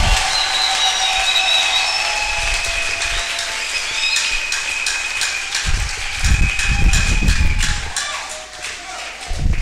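A church congregation applauds in sustained, dense clapping that runs the whole length, with thumps and a few voices and faint tonal sounds mixed in.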